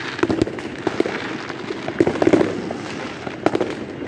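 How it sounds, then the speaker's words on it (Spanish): Krillin firecrackers burst at a Christmas celebration in Callao, Peru, in a rapid crackling series of loud pops and bangs, some near and some farther away. "¡Ya reventaron el popular Krillin!"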